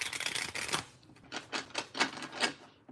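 Deck of tarot cards being shuffled, a quick riffle of papery flutters followed by several softer separate slaps and shuffles, close and alone.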